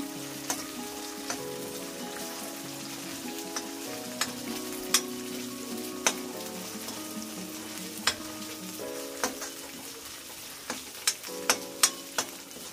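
Homemade ginger-garlic paste frying in a pan, an even close sizzle with regular sharp spatula clicks that come faster near the end, no talking.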